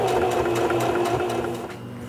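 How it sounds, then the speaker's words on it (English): A sewing machine runs steadily up close, stitching across a dart on a western-style vest, its fast needle chatter and motor hum continuous with slight rhythmic pulses throughout. "I'm going to be sewing across that dart"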